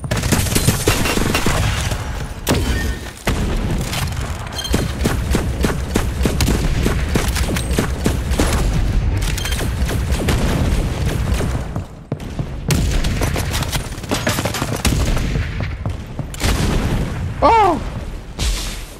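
Heavy PK machine gun fire in the battle royale Farlight 84, loud rapid bursts and booming impacts pounding almost without pause, with brief gaps between volleys and faint in-game sounds mixed in.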